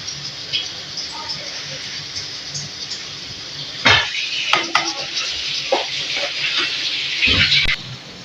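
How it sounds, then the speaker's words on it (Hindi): A spoon stirs rice in a cooking pot over a steady sizzling bubble, with a few close scraping and clinking strokes against the metal in the second half; a person talks in the background. "चावल डालने के बाद इसको एक दफ़ा चम्मच से हिला देंगे इस तरीके से"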